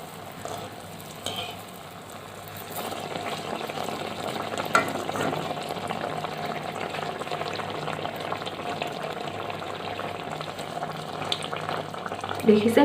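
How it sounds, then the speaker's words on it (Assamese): Tel pitha, a Magh Bihu rice cake, dropped one by one into hot oil and frying with a steady, bubbling sizzle that swells after a quieter start and carries on close and continuous. "এতিয়া মই এনেদৰে এটা এটাকৈ ভাজি লওঁ।"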